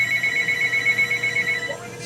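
A telephone ringer ringing with a rapid, continuous trill for about a second and a half, then cutting off, steady and fairly close over a faint background hum.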